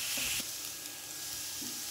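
Chopped onions sizzle and fry in a pan for baingan bharta, a steady close hiss with a few brief scrapes of stirring.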